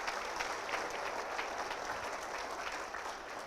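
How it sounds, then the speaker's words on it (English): Steady, dense applause from an audience at a city's State of the City address, continuous and even throughout with no speech over it. "So give yourself a round of applause."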